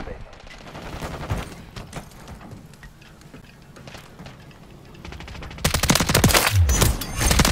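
Rapid automatic gunfire from the Modern Warfare 3 video game, with bursts of shots throughout and a louder, denser volley near the end, mixed with game effects.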